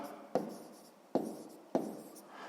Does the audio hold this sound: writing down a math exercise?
yes